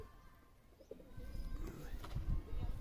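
Soft, low cooing close by from a Malwai (Punjabi) breed pigeon, a murmuring throaty coo that swells toward the end over faint background noise.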